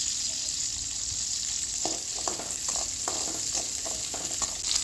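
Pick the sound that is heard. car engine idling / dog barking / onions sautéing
onions sautéing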